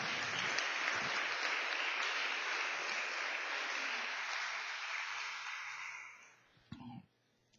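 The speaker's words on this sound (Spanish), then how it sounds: "Denle un gran aplauso al Señor" Congregation applause at a church service, a steady wash of clapping that tapers off and fades out, followed by a few brief knocks and a moment of near silence.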